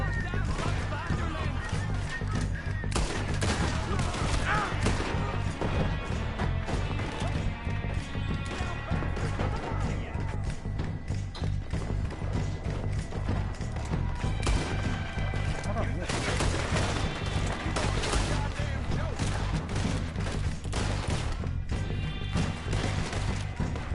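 Repeated gunfire and crashing impacts from a Red Dead Redemption shootout, with sharp shots cracking steadily over a busy, noisy game soundscape while voices talk throughout.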